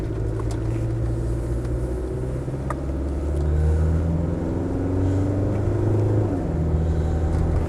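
A Range Rover Vogue SE with the 300TDi diesel and automatic gearbox pulls away, its low engine rumble steady and close, rising slightly as it accelerates, with no talk.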